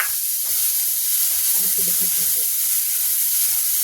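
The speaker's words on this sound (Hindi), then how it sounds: "प्याज को ज़्यादा नहीं हमें भूनना है, हल्का ही भूनेंगे कि जिससे जले नहीं" Onion lightly frying in a pan for Lucknow-style aloo chaat made with desi ghee, a steady soft sizzle with faint stirring taps, no talk.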